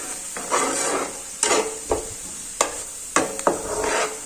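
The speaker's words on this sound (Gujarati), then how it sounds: "હું અત્યારે તેલમાં સાતળીને બધા વેજીટેબલ એડ કરીશ" Chopped onion and vegetables sizzle in hot oil in a pan, with a steady frying hiss broken by several sharp clinks and scrapes of a stirring spoon against the pan, close and fairly loud.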